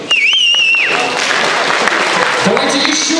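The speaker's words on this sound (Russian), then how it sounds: "Давайте еще разок бурными аплодисментами поддержим наш мед, ребят." At a student spring festival show, a crowd applauds in a loud, continuous roar of clapping, with high whistles cutting through near the start.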